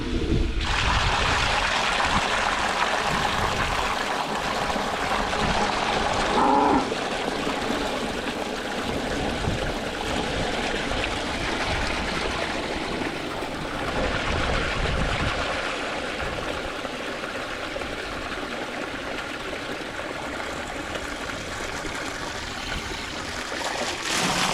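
Water running steadily from an IBC tote through a homemade watering rig built from an old PTO shaft cover and a gas water heater chimney, a continuous close trickling gush lasting throughout with no talk.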